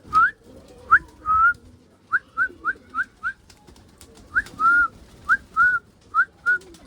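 A person whistles in short, rising chirps, single and in quick runs of three or four, close and clear, calling pigeons, with faint background noise between.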